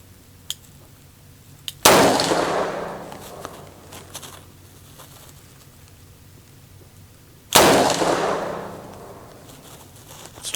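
A short barrel revolver fires double action, two loud sharp shots spaced several seconds apart, each with a decaying echo, and faint clicks and handling noise between them.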